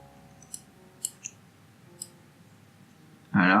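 A few soft, isolated computer clicks and key taps land sparsely in a quiet room, followed by a short burst of speech at the end.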